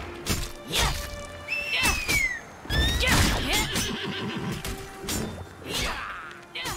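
A horse in the video game Lost Ark neighs, giving several sharp, high whinnies mixed with clattering hooves and clanking impacts.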